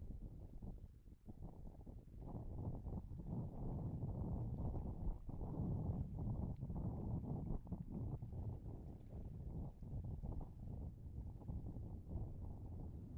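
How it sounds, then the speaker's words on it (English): Nine Merlin 1D engines on a SpaceX Falcon 9 rocket roar after liftoff from the Florida Space Coast, heard as a faint, distant, continuous low rumble with wind buffeting. "let's listen to the roar of those 9 Merlin 1D engines"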